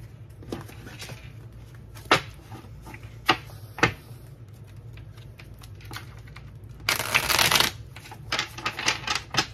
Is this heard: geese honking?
no